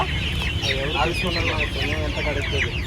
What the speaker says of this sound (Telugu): ఇవి సిటీ కోళ్ళ